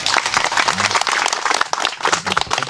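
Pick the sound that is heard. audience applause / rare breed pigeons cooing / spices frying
audience applause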